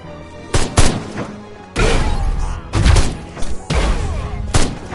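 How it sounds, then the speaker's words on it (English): Bursts of gunfire pound a tower in the Destroy All Humans! remake, coming in heavy clustered volleys with thuds between them, loud and close, while a voice talks over parts of it. "Tower 2 is under fire."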